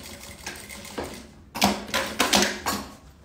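A sewing machine stitches a zipper seam on a synthetic lunchbox panel in short rhythmic bursts, with a brief pause before faster, louder runs of stitching.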